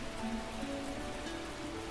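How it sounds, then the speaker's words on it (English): Light rain begins falling outdoors, a soft, steady patter that stays faint and even throughout with no voices. "Rain?"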